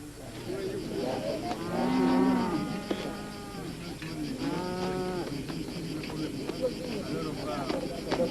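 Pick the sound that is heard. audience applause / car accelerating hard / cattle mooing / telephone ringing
cattle mooing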